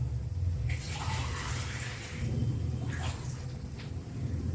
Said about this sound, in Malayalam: ഞാനിപ്പോൾ 2 ഗ്ലാസ് വെള്ളം ഒഴിച്ചു.